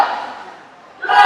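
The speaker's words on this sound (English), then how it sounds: "You'll hear and see his fellow Mount Hope teammates cheering him on here at the far end of the pool." Mount Hope High School swim teammates shout and cheer loudly at the far end of the pool during a 100 breaststroke race, with a burst of yelling that fades briefly and then surges back.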